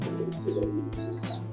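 Racing pigeons drying in the sun after bathing give soft, low coos nearby, a short murmuring phrase over a constant low hum, with a couple of faint higher chirps and light rustling.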